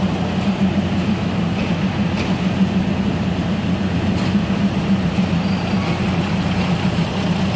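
Kiha 183 diesel train pulling into platform 6 at Bangkok's Hua Lamphong station, a steady loud rumble of rolling wagons and engine with faint metallic ticks, no talk over it.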